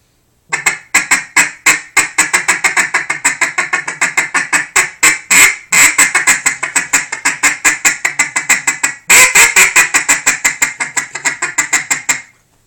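A duck call blowing rapid runs of loud, close quacks, strings of short nasal honks with brief pauses between bursts.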